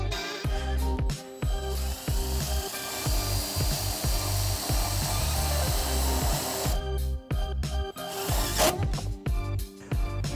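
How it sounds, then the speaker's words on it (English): Self-tapping screw driven into the metal side of a 2019 Ford Escape to ground a wiring harness, heard as a loud, continuous grinding whine from a power driver with brief pauses and bursts of scraping toward the end. "We're just going to go right here on the side on this metal, and we will use the included self-tapping screw."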